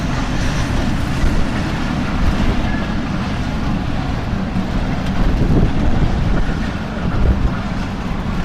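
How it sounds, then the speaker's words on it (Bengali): A train rumbling past on rural tracks near a station, a loud continuous low roar with rhythmic rolling clatter that swells and eases slightly across the stretch. "আমরা ট্রেনেও দেখা পেলাম"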